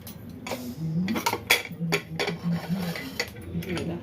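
Metallic clinks and scrapes of a pressure cooker lid being handled and lifted off, several short clattering knocks close by over a low background hum.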